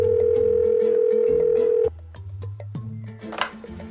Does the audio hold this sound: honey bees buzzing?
no